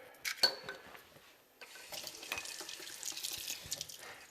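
Water runs from a tap in a steady broadband rush, starting after a couple of brief clinks and continuing close by without any talking.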